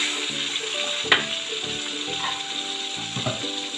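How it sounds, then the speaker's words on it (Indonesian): Sambal of teri anchovies, potato and petai sizzles in fresh hot oil, a continuous close hiss broken by the scraping clatter of a spatula stirring the pan. "Sekarang kita masak sambalnya."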